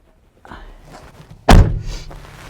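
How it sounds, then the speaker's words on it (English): A Honda Element car door swings shut with one solid, heavy thunk, preceded by a soft rustle of movement and followed by a brief low rumble of the body settling. "I'm gonna close the door."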